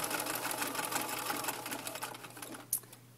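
A sewing machine stitches binding onto a quilt at a fast, steady whirring rhythm, close and continuous, with a brief click near the end.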